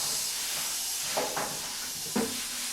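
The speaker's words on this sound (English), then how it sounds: "I blew off any dust or overspray in the garage" A compressed-air blower hisses while clearing dust and overspray off a small Daihatsu Charade body shell in a garage, making a steady airy rush with a few brief louder bursts. No one talks.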